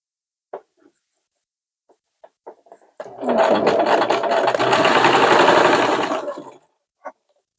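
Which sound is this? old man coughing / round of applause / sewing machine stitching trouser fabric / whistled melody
sewing machine stitching trouser fabric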